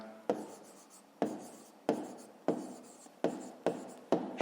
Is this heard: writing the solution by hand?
yes